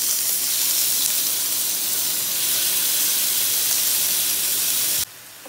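A loud, steady hissing sizzle as chicken is added to hot oil with bay leaf tempering runs continuously, and stops abruptly near the end.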